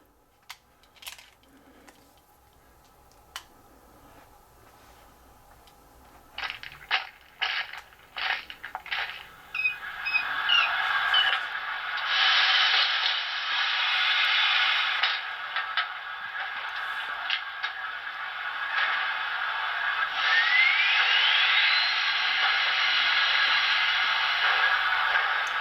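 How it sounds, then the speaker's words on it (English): Startup sequence of an HO scale Broadway Limited Berkshire steam locomotive with Paragon 4 sound: a few sharp clicks and clunks of crew climbing in and turning valves, then a steady loud hiss as the dynamo spins up and runs on. "So you hear the conductor, engineer walk up to the locomotive, get in the cab, turn some valves. You hear the dynamo spin up."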